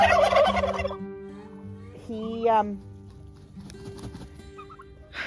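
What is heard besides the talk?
turkey gobbling on a farm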